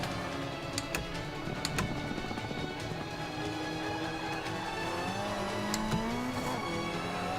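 A Ferrari 458 Spider racing car spins out in the Forza 5 video game, its engine droning steadily and shifting pitch, with faint ticking and clattering over the continuous game audio.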